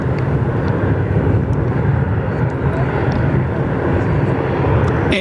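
A Unity Fokker 100 airliner comes in to land on runway 03 at Perth Airport, a loud, steady, broadband engine roar that holds throughout with faint voices beneath.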